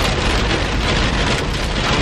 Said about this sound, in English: the rain coming out hard.